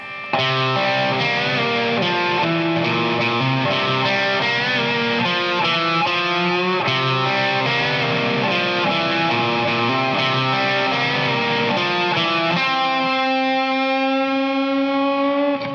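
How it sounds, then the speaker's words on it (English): Distorted electric guitar on the bridge pickup through a Tube Screamer plays a continuous open single-note riff with effects-laden sustain, loud and steady, ending on a held, ringing note. "We'll kick on the bridge pickup and kick on my tube screamer,"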